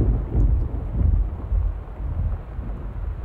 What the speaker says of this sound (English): Jesus, that storm is dramatic.